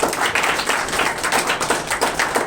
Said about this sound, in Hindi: एक बार इनके लिए तालियां भैया बजा दीजिए